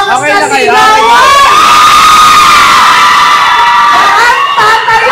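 Excited crowd at a celebrity meet and greet screaming and cheering loudly together, a sustained high-pitched shout that swells and holds close to the microphone.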